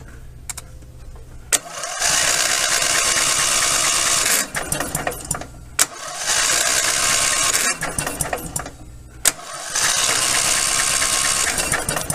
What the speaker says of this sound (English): I've got the spark plugs out of this thing. It should turn over very easily.